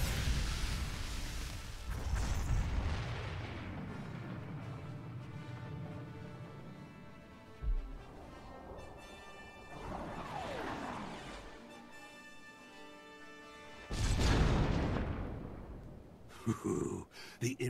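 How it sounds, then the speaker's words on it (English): A missile launches in Star Wars: The Old Republic with a long rushing roar and whoosh, swelling and fading over many seconds, with a louder blast near the end. "We're launching the missile."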